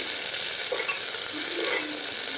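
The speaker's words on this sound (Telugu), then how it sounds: "సో ఇప్పుడు ఆనియన్స్ని కొద్దిగా బ్రౌనిష్ కలర్ వచ్చేంత వరకు ఫ్రై చేసుకుందాము." Onions fry in a pan while browning for a pulihora dish, producing a loud, constant, dense sizzle with faint stirring sounds and no talk.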